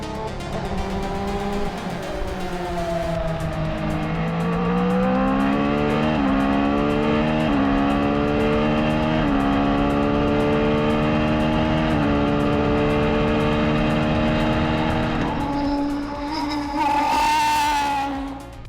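A Honda ARX-01c Le Mans prototype race car on a shakedown day, its engine climbing through gears on track with rising and falling pitch, loud and close, ending with a brief squeal as it passes.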